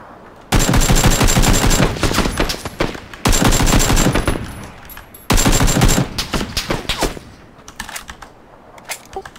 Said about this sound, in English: Two separate teams firing at us.